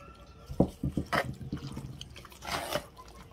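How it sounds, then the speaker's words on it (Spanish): Water splashes and drips as a small clay pot is rinsed at close range, in a few uneven pours and trickles. "Voy a enjuagar mi cazuelita y lo voy a echar aquí"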